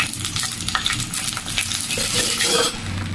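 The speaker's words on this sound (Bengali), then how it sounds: "কিছুক্ষণ পেঁয়াজ তেলে ভালো করে ভেজে নিতে হবে।" Chopped onions frying in pure mustard oil with bay leaves and cinnamon, the base for a duck curry, give off a close, steady sizzle with light stirring scrapes throughout.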